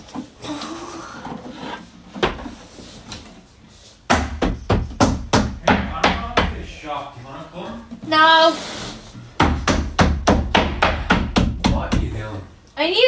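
Rapid, loud hammer blows land in bursts of sharp, evenly spaced knocks, with pauses between the runs, while people talk and exclaim between and over the banging.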